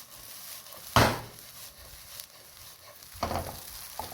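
Fried rice ingredients crackle and sizzle in a hot pan over a high flame, a steady frying hiss broken by a few sharper pops and stirring scrapes.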